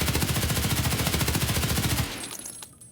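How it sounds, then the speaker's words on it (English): An HK416 assault rifle fires a sustained full-auto burst in Escape From Tarkov, a rapid, even, loud rattle of shots lasting about two seconds before cutting off and ringing out into a fading tail. "First up is the HK416."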